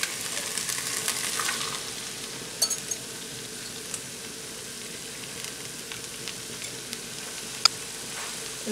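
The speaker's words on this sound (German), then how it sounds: "Jetzt mache ich mir hier in der Mitte so eine freie Stelle. Und da gebe ich jetzt mein Ei rein." Steady sizzling of an egg frying in a pan amid fried rice with vegetables, a continuous soft hiss close by with a few light ticks and scrapes, no talking.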